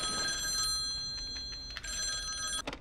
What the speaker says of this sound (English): it sounds like someone's calling the house